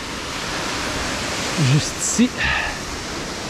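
A river in Québec rushing steadily, a broad constant roar of flowing water close by, with someone speaking briefly over it.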